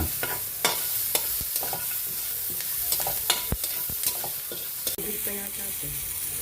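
Garlic and onion sautéing in oil for stir-fried sweet potato leaves with calamansi, a steady loud sizzle broken by repeated sharp utensil scrapes and clinks against the pan.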